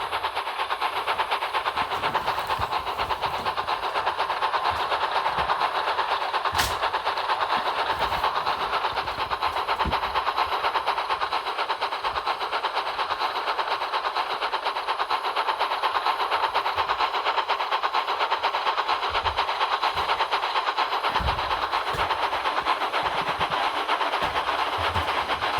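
A steam locomotive runs hard, pulling the Flying Kipper low on coal. A steady dense roar of chuffing and rail clatter continues unbroken throughout, with occasional sharp knocks and no talking.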